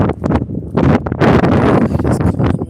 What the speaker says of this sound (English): It is cold and windy right here.